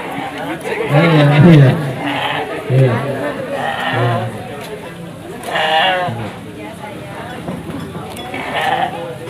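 Goats for an Eid al-Adha sacrifice bleat repeatedly, loud and close, amid crowd chatter and people talking at a gathering in Sleman, Indonesia.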